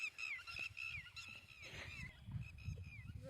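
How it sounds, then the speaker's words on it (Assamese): Birds calling on a hot day in open farmland, a few clear honking, goose-like calls repeating over steady low outdoor noise, fairly close and loud. "এই চৰাইকেইটা গৰমত মাতে সিটো"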